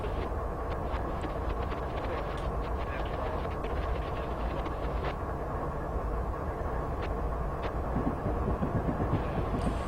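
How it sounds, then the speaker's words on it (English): A freight train in Train Simulator 2015 on the Horseshoe Curve route makes a steady, loud rumble with wheel and wagon clatter throughout, continuous with no pauses. "There's that freight train."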